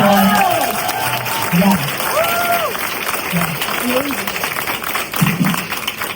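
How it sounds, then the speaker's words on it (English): Applause for Dr Omar at his retirement, a crowd clapping through most of the stretch with a brief voice and scattered cheering, moderately loud and steady. "Can we give Omar a round of applause?"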